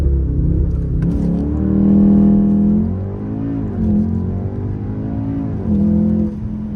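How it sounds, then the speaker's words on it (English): A powerful car engine roars steadily under launch control acceleration from a standstill, rising and dipping in pitch through several surges, loud and close with no talking; the car has a Milltek aftermarket exhaust. "See if we can get a launch control going."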